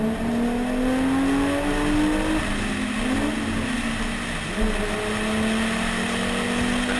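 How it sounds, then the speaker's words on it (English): A VR6 engine revs hard and climbs steadily in pitch from inside a racing car on a drag strip, a loud continuous roar with a brief shift partway through. "The lovely tone that VR6 puts out."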